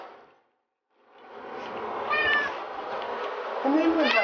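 A cat meows a few times, with plaintive, wavering cries over a muffled background that may include a soft human voice.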